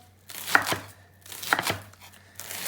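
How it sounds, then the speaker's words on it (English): A knife chops vegetables steadily on a chopping board in two short bursts of quick cuts, crisp and close, with no talking. "Just chop it a different way this time"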